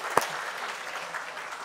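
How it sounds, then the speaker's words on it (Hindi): An audience at a motivational talk claps, opening with one sharp, close clap before steady, moderately loud applause fills the rest of the moment. "ताली बजाओ सर के लिए"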